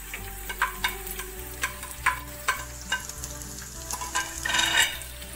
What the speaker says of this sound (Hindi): ये ऑयल गरम हो चुका है, अब हम पैन में प्याज डालेंगे।